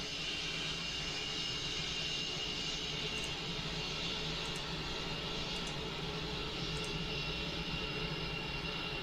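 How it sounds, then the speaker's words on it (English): Embraer E195 (Azul ERJ-195) jet engines in Microsoft Flight Simulator 2020, a steady loud broadband roar holding evenly throughout with no voices. "Very loud. Very loud, these aircraft."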